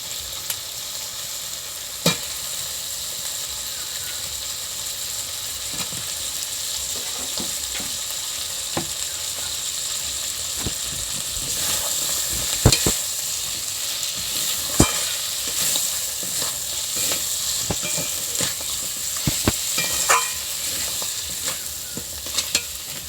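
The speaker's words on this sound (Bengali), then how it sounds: "তারপর কিছুক্ষণ নেড়ে চেড়ে তাতে ছাড়িয়ে রাখা কাঁকড়াগুলো দিয়ে ভালো করে কষে নেব।" Crabs being stir-fried in a pan for a spicy Bengali crab curry, a steady sizzle and frying hiss with scattered sharp clinks and scrapes of stirring throughout, close and moderately loud, with no talking.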